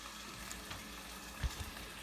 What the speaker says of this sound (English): Listen to it sizzle. Let's get a listen on that sizzle.